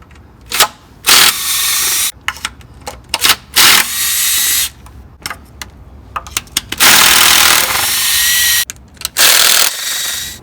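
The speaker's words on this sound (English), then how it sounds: "we're going to be using only a 10mm socket to take them off" Oil pan bolts on a Ford 2.7 EcoBoost coming out with a 10mm socket, loud close bursts of a power tool whirring in several separate runs, with short ratcheting clicks and metallic handling sounds between them.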